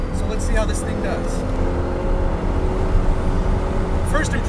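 Redesigned 5-liter V8 in a 2015 Lexus RC F, a steady low engine drone heard from inside the car, with voices talking over it throughout.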